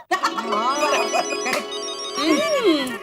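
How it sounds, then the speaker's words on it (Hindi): A mobile phone ringtone plays as an incoming call arrives, a looping melodic tune with sweeping tones, close and fairly loud for about three seconds. "फोन आया। लो, टप्पू के पापा का ही फोन है।"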